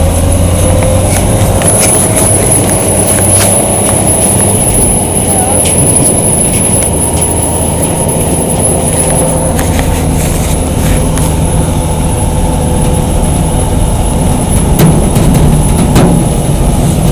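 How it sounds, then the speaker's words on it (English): Dump truck engine droning loud and steady from inside the cab while plowing snow, a constant heavy rumble with a high whine over it, as people talk throughout. "we're just plowing snow."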